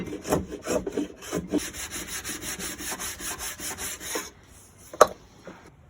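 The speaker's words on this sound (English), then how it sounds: "Just use the planer and get it nice and level and flat." A hand planer scrapes back and forth over a wooden guitar headstock, leveling and flattening it in rhythmic close strokes for about four seconds, followed by quiet and a single sharp knock.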